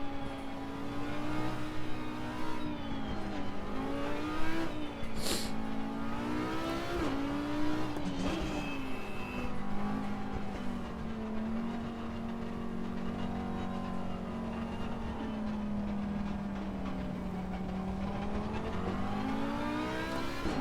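An Audi R8 race car in Assetto Corsa Competizione at Watkins Glen drones steadily as its engine note rises and falls under acceleration and braking, continuous and close throughout.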